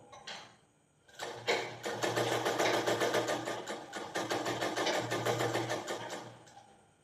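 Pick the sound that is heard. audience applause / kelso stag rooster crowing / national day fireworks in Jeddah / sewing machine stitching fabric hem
sewing machine stitching fabric hem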